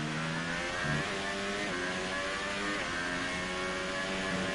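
F3 race cars leave the pits in a racing game set in Australia, several engines droning and rising in overlapping revving tones, steady and fairly loud throughout, no talking.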